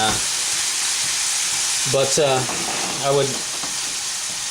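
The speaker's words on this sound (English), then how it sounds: "I would be frying up my hamburger just like this" Steady, crackling sizzle of hamburger meat frying in a hot, greasy pan, with a voice speaking briefly over the hiss.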